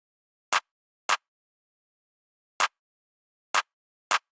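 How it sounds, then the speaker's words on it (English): Cymatics Magic Clap sample sequenced in FL Studio for a trap beat: five isolated, crisp clap hits in a sparse, uneven pattern, each short and dry, with silence between. "We are using a clap from a Cymatics kit called the Magic Clap."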